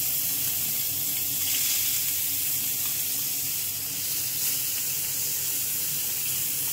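Small mourola fish frying in hot oil, a steady broad hiss of sizzling that runs continuously at close range, with no speech.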